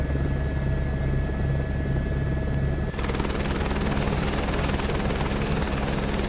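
An aircraft engine at full throttle in Microsoft Flight Simulator 2024, a loud steady droning roar with a rapid rotor-like chop that shifts in tone partway through, alone without talk.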